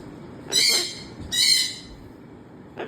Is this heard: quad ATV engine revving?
no